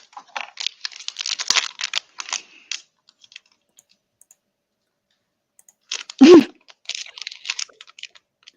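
Crinkling plastic wrapper of pain patches, a run of dry, irregular crackles close by, pausing briefly before another burst of crinkles with one louder knock.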